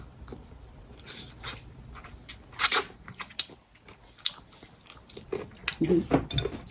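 Crispy chicken skin is bitten and chewed up close, with irregular wet crunches and smacks spread across several seconds.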